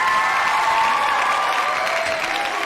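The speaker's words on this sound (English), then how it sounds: "how about a virtual applause tonight for MVS and Josiah Deguara for hanging out with us?" A crowd applauds the guests, a dense, continuous patter of clapping that stays loud and even from start to finish with no talking over it.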